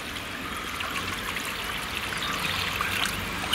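Water pours steadily into a pot of tamarind fish curry with a continuous splashing rush, close and even, with no voices.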